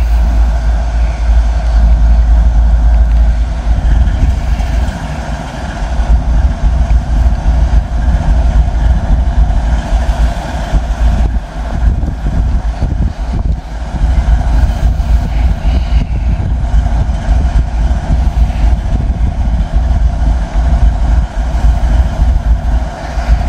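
Freight train rolling past in open farm country, a loud continuous low rumble of wheels and cars with rhythmic clatter fluctuating over the whole stretch, close by and without talk.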